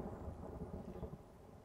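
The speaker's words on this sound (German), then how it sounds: "Ja, ja, lass es gewittern." A low rumbling thunderstorm in the space colony game Planetbase, a continuous faint roll of thunder with a steady rain-like hiss underneath and no talking.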